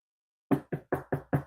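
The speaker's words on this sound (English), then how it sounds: "SWAT team at your door right now." Six firm knocks on a door arrive in a quick, even rhythm after a brief silence, loud and close with no voices.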